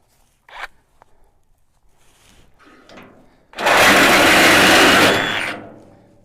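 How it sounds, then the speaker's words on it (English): A Sawzall reciprocating saw cuts for about a second and a half, loud and close with a dense buzzing roar, after a few quieter knocks and handling sounds. "Let's try this Sawzall."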